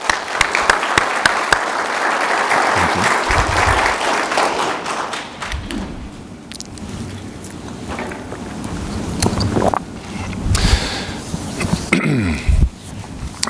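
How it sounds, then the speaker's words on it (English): A breakfast crowd at an employee and officer of the month event gives a round of applause for award recipients, loud and dense at first, then fading into scattered claps, thumps and room noise. "Got a round of applause for all of them."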